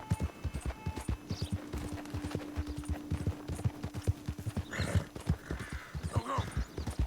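A horse gallops in Red Dead Redemption 2, its hooves pounding in a rapid, steady rhythm for several seconds, and near the end a whinny and some higher rustling join in.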